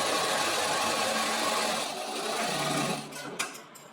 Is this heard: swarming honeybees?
no